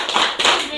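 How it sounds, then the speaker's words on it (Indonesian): A group does the "tepuk hebat" clap at a stunting training session: a quick burst of hand claps mixed with chanting voices, close and lively, lasting under a second. "Kita beri tepuk hebat."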